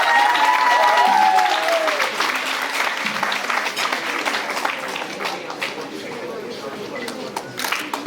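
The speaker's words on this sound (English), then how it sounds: "A big round of applause for Suhail Kalsi." Applause from the audience at a convocation and alumni meet ceremony, a full, loud burst of many hands clapping that slowly thins, while an announcer speaks over the opening moments.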